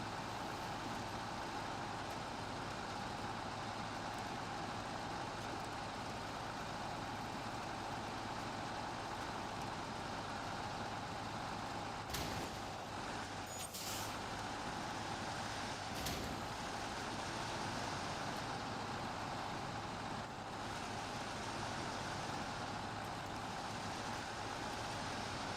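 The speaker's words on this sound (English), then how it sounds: "Yeah, the AE is a nice truck." AE truck in SnowRunner climbing an icy hill in the Kola Peninsula, a steady loud diesel drone that holds without a break, with a few sharp clanks and hisses partway through.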